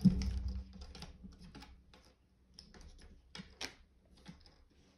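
Cardboard pieces from a 1000-piece Disney jigsaw puzzle are flipped over by hand on a table, making a close series of light, irregular clicks and taps.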